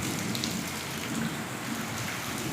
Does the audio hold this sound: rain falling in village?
yes